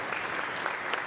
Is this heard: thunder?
no